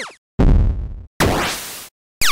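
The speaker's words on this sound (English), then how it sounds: "The next one, it's called Retro Game Weapons Sound Effects." Retro video game weapon effects from a free sample pack: several loud, noisy blasts separated by short silences, with crackly bursts and a falling chirp-like sweep, heard alone.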